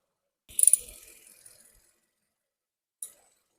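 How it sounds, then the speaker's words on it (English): A ratchet clicks briefly while tightening the transmission plug on a Kia Rio, a quick burst of close metallic ratcheting followed by a short pause and a single faint click. "I'll get the ratchet and tighten it up."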